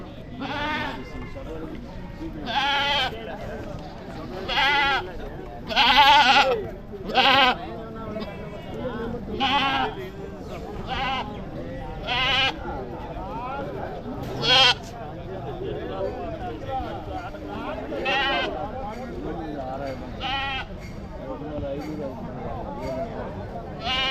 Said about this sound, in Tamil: எல்லாமே பார்த்திங்கன்னா வெள்ளாட்டு குட்டிங்க நல்லா அருமையாக இருக்குது பாருங்கள் குட்டிங்க